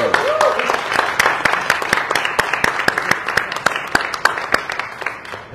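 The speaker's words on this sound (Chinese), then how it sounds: "我们掌声欢迎高山峰" An audience applauds at a film-launch press conference, loud, close clapping in a brisk steady rhythm of sharp claps that runs the whole way through.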